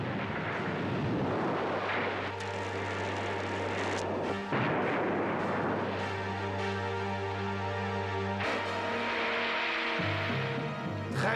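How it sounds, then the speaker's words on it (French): A ship's bow cannon fires a salvo in an animated adventure series, with heavy booming blasts and rumbling roar that fill the scene loudly and continuously, layered with dramatic score. "Tire une salve d'intimidation de la proue."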